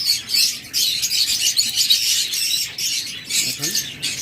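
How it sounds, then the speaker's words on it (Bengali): Local-breed pet birds sold at a market chirp and squawk in a dense, continuous flurry of calls close by, with a bit of wing flapping. "একদম লোকাল ব্রিডের লোকাল পাখি"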